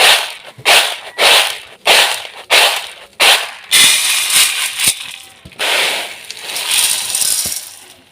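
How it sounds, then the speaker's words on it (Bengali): Roasted chickpeas shaken in a pan or sieve to knock off salt while making sattu, giving a series of sharp rhythmic rattling bursts about every half second, then a longer continuous rustling shake. "এবার একটু ঝেড়ে নেবো, তার এর মধ্যে যদি লবণ থাকে লবণটা কিন্তু বেরিয়ে যাবে"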